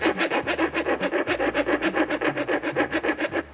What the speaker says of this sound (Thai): เดี๋ยวผมลองเลื่อยด้ามไขควงดู